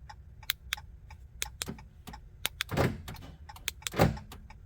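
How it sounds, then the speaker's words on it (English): Door locks on a 2014 RAM pickup clunk through a lock-and-unlock cycle: two dense, broadband thumps stand out over a quiet background, with a scatter of sharp, faint ticks and clicks around them. "let me see what happens if I lock and unlock the door."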